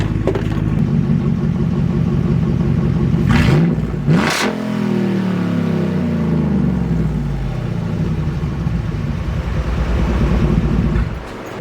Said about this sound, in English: Let's get a couple of revs.